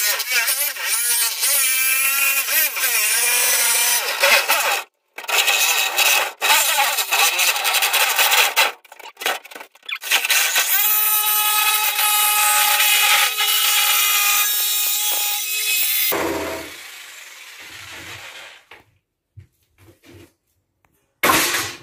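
A jigsaw cuts a hole in a wood panel in loud, rasping runs with brief stops between them, then the cutting fades out near the end.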